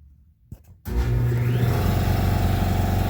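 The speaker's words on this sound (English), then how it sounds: "Of course, the compressor kicks on." An air compressor in a garage kicks on after a moment of near silence and some faint knocks, then settles into a loud, steady mechanical drone.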